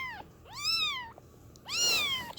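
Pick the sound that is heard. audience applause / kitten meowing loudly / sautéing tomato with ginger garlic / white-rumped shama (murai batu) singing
kitten meowing loudly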